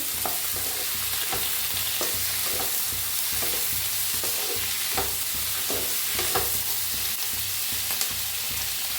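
Garlic and green chillies roast in a pan with cashews and ginger, giving a continuous sizzle with regular scraping stirs of the spatula at close range.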